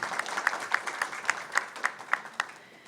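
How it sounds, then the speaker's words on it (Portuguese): A handful of people clap in a regular rhythm for about three seconds, fairly faint and slightly distant, fading at the end. "Uma salva de palmas para a Vera."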